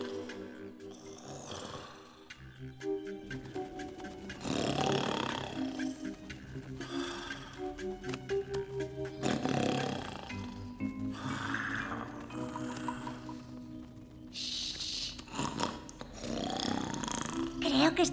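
A cartoon bear in a cave lets out repeated deep, growling roars and snore-like rumbles in a rhythmic pattern, mixed with background music and voices talking over it.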